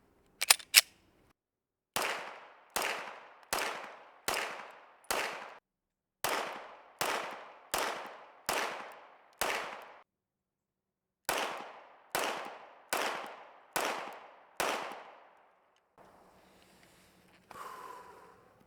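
Heckler & Koch VP9 pistols, including a ported match version and the VP9F A1 and VP9K A1, fire sharp gunshots outdoors in quick five-shot strings. The strings are separated by brief pauses, and each shot leaves a short decay.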